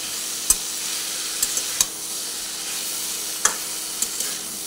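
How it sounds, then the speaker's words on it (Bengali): Potato, carrot and capsicum fry in a pan with a constant loud sizzle and hiss, marked by a few sharp clicks and scrapes from stirring. "তারপরে ভালোভাবে নাড়াচাড়া করে দিচ্ছি"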